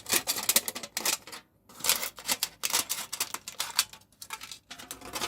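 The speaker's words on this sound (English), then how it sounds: "Let me take my scissor" Scissors snip through aluminum foil from a container to make a small holding element for a fountain pen repair, giving close, crisp crinkling cuts in quick irregular bursts with brief pauses.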